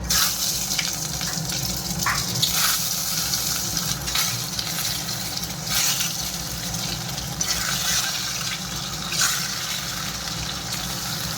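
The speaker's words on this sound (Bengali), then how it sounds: "এখন এই ডিমগুলো আমি এক এক করে তেলের উপরে দিয়ে দেবো।" Eggs frying in hot oil seasoned with turmeric and salt for a mustard egg curry, giving a steady, dense sizzle with light scraping and watery crackle throughout, close and continuous with no one speaking.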